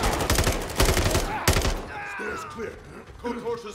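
Automatic gunfire rattles in Call of Duty: Modern Warfare III, with loud rapid bursts in the first half. The shooting then gives way to quieter game sounds and tonal effects, while a voice talks intermittently.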